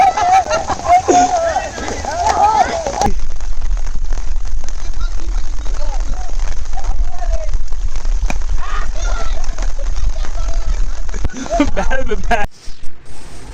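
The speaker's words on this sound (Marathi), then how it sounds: "पाऊस पडायला पण लागलाय आता" Monsoon rain in the Konkan countryside near Velvi village pours in a steady, dense hiss and patter that fills the whole stretch, with voices talking over it.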